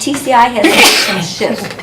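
A single sharp sneeze bursts out during a school district board meeting, heard over a person speaking nearby.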